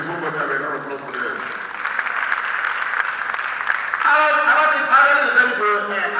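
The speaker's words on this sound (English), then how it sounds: "Please, one more time, a round of applause for them." Comedy show audience in Nigeria applauding at Season Of Laffta 2023, a steady roar of clapping and cheering voices that swells louder toward the end, with voices mixed throughout.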